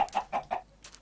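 A chicken in a Minecraft-style crafting game clucks in a quick burst of four short, clipped notes just after laying an egg, followed by a faint higher chirp.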